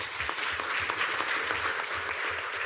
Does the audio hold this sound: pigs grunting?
no